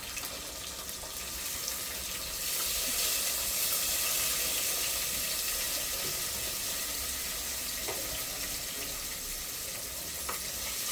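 Onions fry in hot oil with cardamom and cinnamon for an egg biryani, giving a steady, close sizzling hiss that grows slightly louder and continues without talk.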